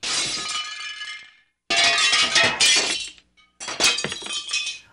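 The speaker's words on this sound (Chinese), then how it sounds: "好像是陶罐被砸碎了的声音。" A pottery jar smashes loudly in three separate crashing bursts, each a sharp break trailing into scattering shards, divided by brief silences.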